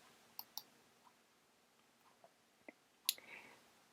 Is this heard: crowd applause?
no